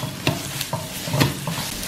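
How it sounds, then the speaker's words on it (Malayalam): Chopped onions sauté in a hot pan for chicken Manchurian, with a continuous sizzle broken by several sharp scrapes and stirring strokes. The sounds are close and fairly loud, and no one speaks. "സവാള നല്ലോണം നമുക്കൊന്ന് സോർട്ട് ചെയ്ത് കൊടുക്കാം."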